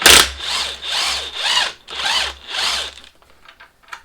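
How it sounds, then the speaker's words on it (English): Power tool undoing the top strut nut on a Vauxhall Corsa D front suspension, four loud whirring bursts of a few tenths of a second each, close by, then fading into quiet clicks. "we're stopping that from spinning as we undo that nut"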